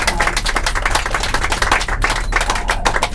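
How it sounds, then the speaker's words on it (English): An audience claps steadily after a speaker's presentation at a gathering. The applause is dense and continuous, with many overlapping hand claps, fairly close and loud, and no voices. "a round of applause"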